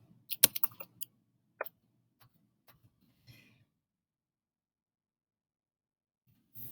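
Someone types a few keystrokes on a Chromebook keyboard: a quick cluster of sharp clicks, then scattered single taps fading into near silence, close and quiet.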